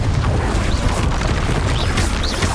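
Confringo blasting spell exploding in Hogwarts Legacy, a loud, dense booming crash that rumbles continuously for a couple of seconds, near and heavy, with no voice over it.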